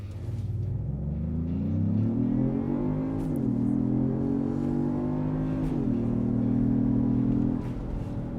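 A 2025 Genesis GV80 Coupe with a 3.5-liter twin-turbo engine accelerating hard, the engine note rising through two gear shifts in a loud, close, steady pull before easing off.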